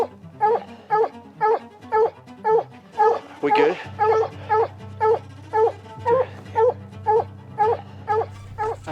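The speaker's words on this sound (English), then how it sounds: "He's gotta get that dog out of the way" A dog close by whimpers and barks at a mountain lion up a tree in Utah, giving a fast, regular run of yelping whines with a wailing moan midway. Someone speaks briefly over it.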